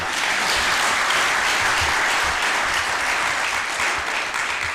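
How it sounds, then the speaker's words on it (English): Steady, dense clapping from many hands, muffled and continuous, filling the whole stretch without pause. "You mean that energy could allow just for that muffled hand clapping?"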